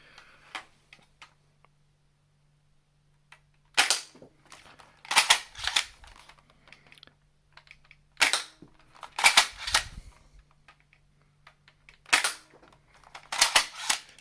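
A string-powered Rebel Codebreaker crossbow firing XShot foam darts, sharp snapping shots in short clusters of two or three separated by quiet pauses, with light clicks of cocking and reloading between them, close by.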